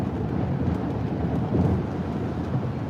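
Steady rain rushes while a vehicle drives through Charleston, West Virginia, a dense, continuous wash of noise with low rumble and no talk.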